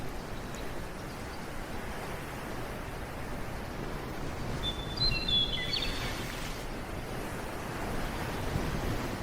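Waves wash onto a shore in a steady, broad roar, with a brief bird chirp partway through.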